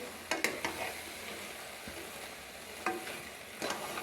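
Carrot barfi mixture of grated carrot, milk and flour is stirred in a hot pan, with a soft sizzle and a few sharp scraping knocks of the spoon against the metal.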